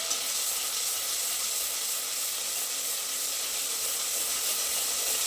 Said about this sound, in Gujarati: સરસ રીતે આ પેસ્ટને સાંતળી લઈશું જેથી લસણ એની કચાશ દૂર થઈ જાય